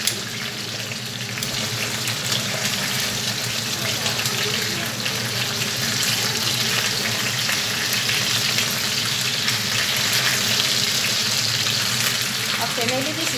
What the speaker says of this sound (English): the oil are splattering